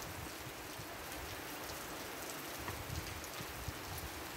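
Steady rain pours down outdoors, a dense continuous hiss of drops on surfaces with no voices.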